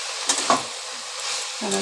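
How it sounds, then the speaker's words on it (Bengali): Shredded cabbage fries in a pan with a soft, steady sizzle, broken by a couple of sharp clinks and scrapes as it is stirred, with a voice briefly heard near the end. "আজকে একটু বাঁধাকপি ভাজাই করলাম"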